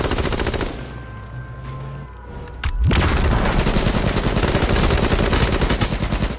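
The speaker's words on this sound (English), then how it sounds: "I just shot him." Gunfire in the battle royale video game H1Z1. After a quieter stretch with a rising whine, a loud, rapid, continuous burst of automatic shots runs steadily through to the end.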